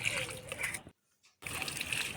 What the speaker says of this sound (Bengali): ছাদে গিয়ে আগে গাছগুলো জল দিলাম।